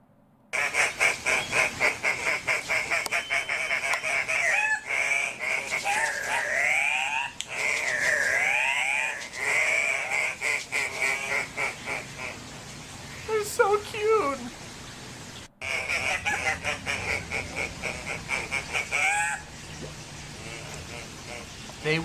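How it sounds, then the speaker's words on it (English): Large birds honking loudly in bursts, with overlapping calls and a brief pause, close by and outdoors. "There were so many cool birds we saw. We saw huge birds."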